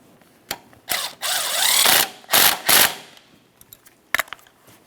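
A power tool drives a 13mm mounting bolt on the power steering line of a 2007-2017 Jeep Patriot, heard as several short, loud whirring bursts close by, followed by a few light clicks.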